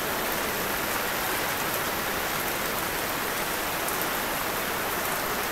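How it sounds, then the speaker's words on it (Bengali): Heavy rain pours down steadily at a roadside shop under an amla tree, a dense, even hiss that fills the space throughout with no voices. "এই জায়গায় কিন্তু প্রচন্ড পরিমাণে বৃষ্টি হইতাছে"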